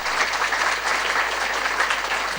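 Steady, dense applause from a crowd standing at a motivational team event, continuous and loud throughout with no pauses.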